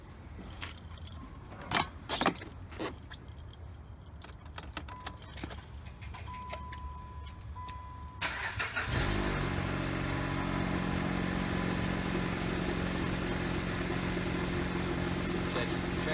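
Keys jangle, then a car engine cranks and starts after a basic tune-up around the midpoint, settling into a steady, continuous idle.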